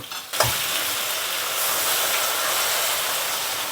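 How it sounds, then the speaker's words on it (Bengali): Water poured into a hot oiled pan for Bengali chal kumro shukto hits with a sudden burst, then settles into a loud, steady, close sizzle and hiss that runs on without pause and without voices. "দিয়ে দেবো এবার কি করব হালকা জল দিয়ে দেব"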